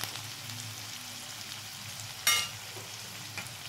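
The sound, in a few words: onions lightly frying in a pan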